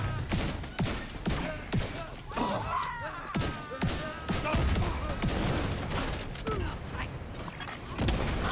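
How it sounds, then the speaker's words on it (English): Video-game gunfire crackles in rapid bursts with sharp repeated shots and mechanical clatter, while voices talk faintly in the background. "I hear gunfire."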